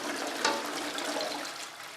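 Toilet flushing in a hotel bathroom at an oasis in Egypt, a short watery rush with a brief louder surge early, then a steady hiss of refilling water, close and moderately quiet.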